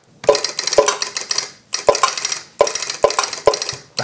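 A homemade acoustic drum machine strikes out a metallic rhythm, sharp clinking hits in repeated groups with crashing, rattling decay between beats, close and loud with no talking.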